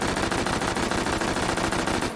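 An H&K MP5 chambered in .40 S&W fires a sustained full-auto burst in the video game H3VR, rapid evenly spaced loud shots for about two seconds, then stopping.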